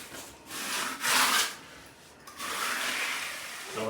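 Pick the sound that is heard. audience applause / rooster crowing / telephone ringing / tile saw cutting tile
tile saw cutting tile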